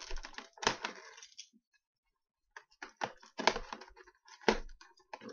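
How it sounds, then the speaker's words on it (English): Car keys scraping and cutting through the packaging of a PlayStation 4 Camera box, a run of sharp close ticks and scratchy bursts with a short pause in the middle, then more clustered scraping cuts. "we're just going to use my car keys to get this thing open here"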